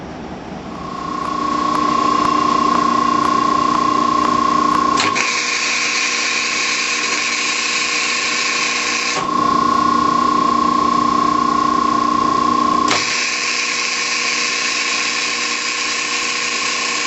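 Steady electrical welding buzz with a constant hum while joining aluminum jon boat pieces, switching on and off in long stretches, loud and close with no talk.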